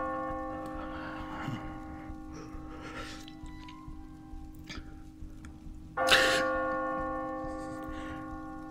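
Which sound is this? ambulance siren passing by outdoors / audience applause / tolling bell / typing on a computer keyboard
tolling bell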